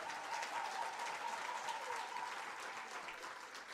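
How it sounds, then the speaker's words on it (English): Audience applause at a university teaching and learning awards ceremony, steady and dense, filling the hall without a break for about four seconds with no voices over it. "So she too deserves a round of applause."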